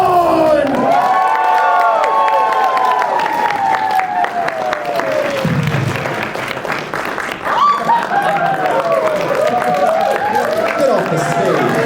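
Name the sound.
convention crowd cheering at wrestling show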